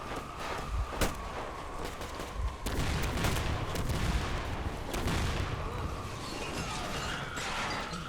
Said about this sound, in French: J'ai entendu les coups de feu!